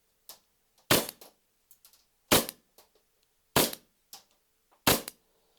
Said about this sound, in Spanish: Lo quitamos y vamos a proceder con los disparos.